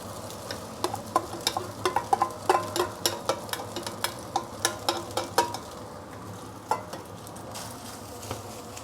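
Bacon fried rice tossed in a wok just after pre-cooked rice goes in, with steady sizzling and a quick series of sharp scraping clicks from the spatula against the pan.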